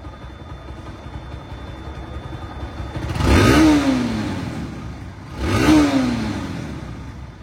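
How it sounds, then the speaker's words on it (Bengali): A Bajaj Pulsar NS 160 motorcycle engine idles smoothly up close, then revs sharply twice, each throttle blip rising and falling back to a steady idle. "গাড়িটা কিন্তু স্টার্ট অবস্থা আছে, দেখেন সাউন্ডটা কত স্মুথ এবং মিষ্টি।"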